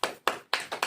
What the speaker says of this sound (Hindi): ताली नहीं बजेगी क्या?